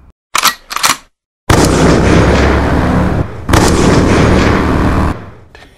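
A Harley-Davidson Forty-Eight motorcycle with an unrestricted exhaust fires a few sharp revs, then roars loudly and steadily up close before the engine note drops off.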